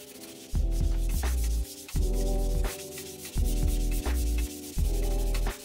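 Rust is scrubbed off a metal machine table with WD-40: rhythmic back-and-forth rubbing strokes, about five loud passes with short gaps, close and alone.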